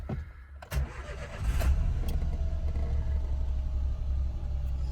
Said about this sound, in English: Engine's an absolute beautiful runner